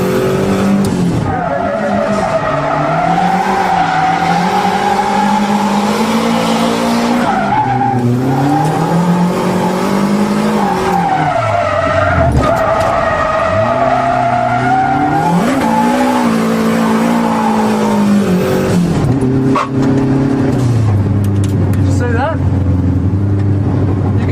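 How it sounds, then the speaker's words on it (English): A drifting car in second gear with the handbrake pulled: the engine revs rise and fall while the tires skid and squeal continuously. It is loud and close throughout, with a voice speaking over it. "Now when you're pulling the handbrake, you can do that by pushing in the clutch with your left foot and revving with your right."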